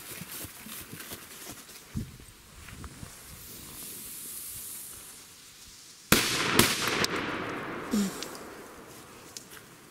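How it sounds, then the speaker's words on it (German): Firecrackers go off during New Year's Eve celebrations in Germany. Two sharp bangs are followed by a loud crackling, hissing burst that fades out, with a few smaller pops. "Böller finde ich schon geil."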